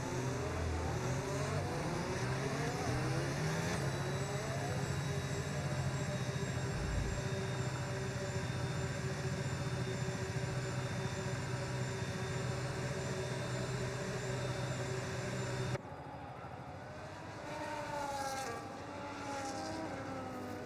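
F1 25 race cars on the sprint grid at the Miami Grand Prix hold a loud, steady engine drone with layered high whines, close and constant, then the sound cuts to a quieter scene near the end.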